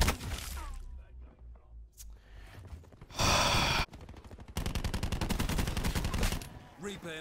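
Gunfire in Call of Duty: Black Ops 4, loud rapid bursts of automatic shots in two main volleys with short gaps and scattered single shots, mixed with a player's gasps and breathing.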